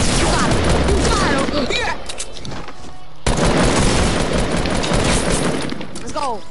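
Gunfire during a PS4 shooter match, loud cracking shots and debris-like bursts over a dense noisy game mix, with people talking throughout.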